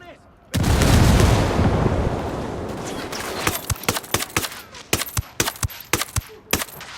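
A grenade in Ghost Recon Wildlands bursts with a loud, close boom that rolls off over a couple of seconds, followed by a string of sharp gunshots.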